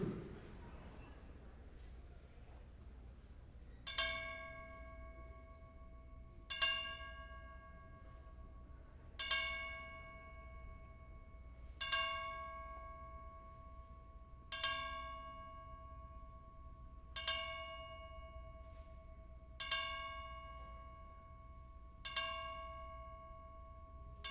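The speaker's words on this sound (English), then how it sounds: "we ask that everyone stand for the traditional tolling of the bells for Jaquay Bazemore." Memorial bells toll slowly and solemnly at a mixed martial arts event, nine evenly spaced ringing strikes each decaying into a long resonant hum over faint crowd and room noise.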